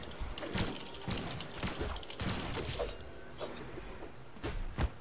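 Sharp bursts of Brawlhalla video game gunfire crack out in irregular clusters, with mechanical clicks and rattles between shots, moderately loud and without any talking.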